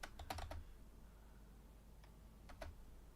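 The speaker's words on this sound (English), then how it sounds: "I wasn't just typing literally random gibberish." Quiet, scattered key clicks from a computer keyboard: a quick cluster of taps at the start, then a couple of isolated strokes later.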